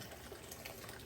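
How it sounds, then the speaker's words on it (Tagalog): Water is poured into a cooking pot of chicken broth for a soupy pancit, a brief continuous gushing rush of liquid heard on its own. "Tapos ito, lagyan natin ng tubig."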